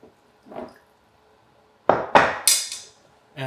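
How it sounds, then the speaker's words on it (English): Bone broth poured from a pot into a glass jar: a soft slosh, then a run of sharp glassy clinks and splashy bursts close by, with no talking. "And you just pour it off into the jar."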